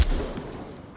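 A gunshot rings out in a VR shooter game, one sharp close crack at the start followed by a short decaying tail.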